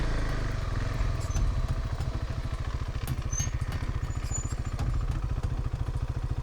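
A motorcycle engine labours loudly with a steady low, rapid throb as it struggles to climb out of a steep ravine, close and continuous throughout with no voices.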